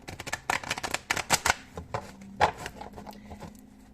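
Tarot cards being shuffled for a reading, a close series of quick riffling and slapping bursts that come in uneven clusters and taper off toward the end.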